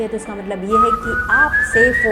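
Eerie melodic whistling in rising, sliding notes rings clearly and close, weaving over someone speaking softly underneath.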